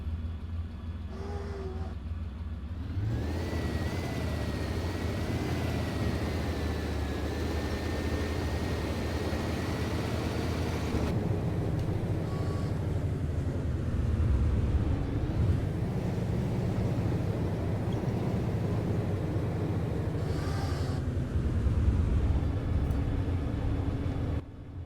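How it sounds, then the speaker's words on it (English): A real Gepard anti-aircraft tank, built on the Leopard chassis, idles with a steady deep engine rumble and a whining tone that holds constant and fairly loud throughout, with no talk over it. "I'm gonna let the audio be loud for a sec so I can show you guys the engine."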